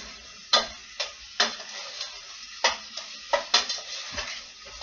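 Onions in olive oil in a pan, a soft steady sizzle broken by sharp scraping knocks of a utensil stirring against the pan at irregular intervals.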